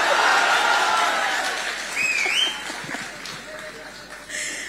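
An audience at an AajTak stage event with lyricist Manoj Muntashir applauds, a broad wash of clapping and crowd noise that fades gradually, with faint voices and a brief whistle-like tone partway through.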